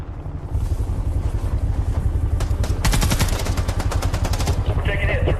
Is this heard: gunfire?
yes